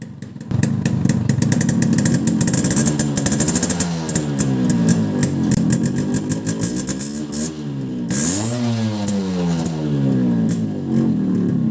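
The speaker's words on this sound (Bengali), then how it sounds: "আমার বাইকের এই সাউন্ড শুনে ভালো লাগে না এই জন্য কিক দিয়ে এখন স্টার্ট করতে হবে" An RX motorcycle kick-started into life, its single engine settling into a loud, close, steady running note with repeated rising and falling revs throughout.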